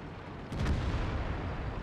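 A tank cannon fires in World of Tanks, one deep booming shot that hits hard and then rolls away into a long rumbling tail over steady low background noise.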